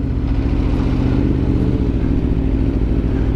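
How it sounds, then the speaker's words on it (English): A deep, throaty 2021 Kawasaki ZX-10R sport motorcycle exhaust rumbles steadily at idle, a low pulsing engine note close by with no talking. "it's great to be back on a motorcycle with an exhaust. Man, you can hear the rumble."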